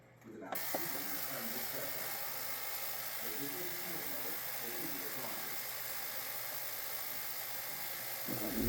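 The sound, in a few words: drilling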